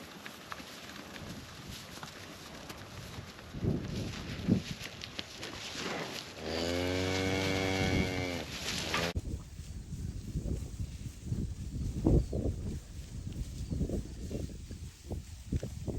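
A cow lets out one long, loud moo partway through, set against quieter farmyard shuffling, hoof steps and other cattle movement nearby.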